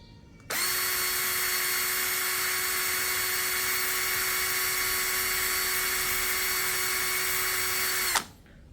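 A DCA ADJZ2035i cordless impact drill spinning freely at speed setting 2, a steady high whine that starts abruptly, holds at one even pitch for about eight seconds, then cuts off, close and loud with no talk.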